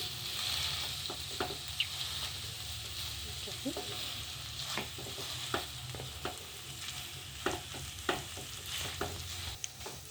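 Grated potatoes and vegetables are stir-fried in a pan, with a steady low sizzle under repeated scraping and clinking strokes of a spatula stirring the mixture.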